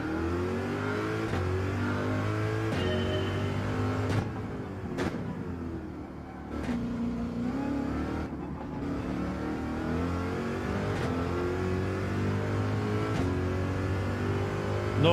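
A Corvette engine revving in Gran Turismo 7 on the Nordschleife, a steady loud drone that rises and falls through gear changes and runs continuously with no break.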